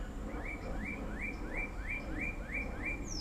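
A small bird repeats a short, rising chirp about every third of a second against a constant background hum.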